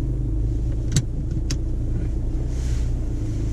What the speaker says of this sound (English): So we're going to basically turn the car around. I'm just going to reverse back